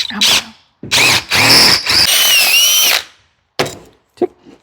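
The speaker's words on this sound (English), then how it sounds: "So I'm just drilling out the hole on this one here." A power drill bores out a hole in a metal bracket during a Smart car build, with several loud whining bursts and a squealing pitch, separated by short pauses and a few knocks near the end.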